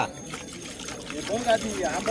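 Water poured out during a Gavaldev ritual for protecting cattle in rural Konkan, a close, uneven splashing and trickling that runs under loud, overlapping talk from several people.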